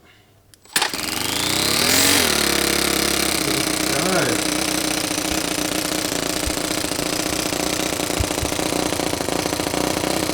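A small four-stroke RC car engine sputters to life and settles into a loud, steady buzzing idle, with a couple of quick revs early on.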